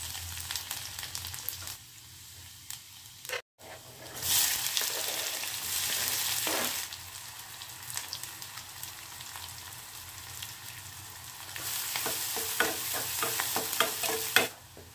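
Spices are tempered in hot oil for a mustard greens dish, giving a loud sudden sizzle after a brief pause. Spoon stirring and crackling frying follow steadily, and the sizzle swells again near the end.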